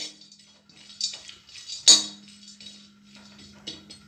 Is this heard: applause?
no